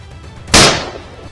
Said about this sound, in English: The gunshots rang out through the forested hills